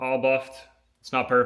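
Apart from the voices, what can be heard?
No everyday noise stands out behind the speech.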